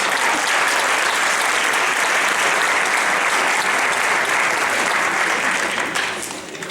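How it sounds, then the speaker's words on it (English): Dense, loud audience applause at an 8th grade honors band concert, a continuous wash of clapping that holds steady and then tapers slightly at the end. "Let's give them a round of applause."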